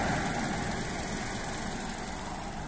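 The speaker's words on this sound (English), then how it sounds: "engine sound very nice and smooth" Toyota Corolla Verso 1.8 VVT-i petrol MPV engine running steadily at idle, a smooth, even hum with constant broadband noise and no audible talk.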